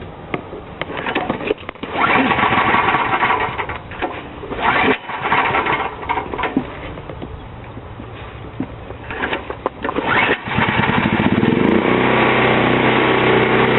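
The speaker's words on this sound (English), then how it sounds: "So let's give it a pull and see if it goes." Emergency generator engine pull-started after choking, with several rough, uneven bursts of cranking and sputtering before the engine catches and settles into a loud, steady run near the end.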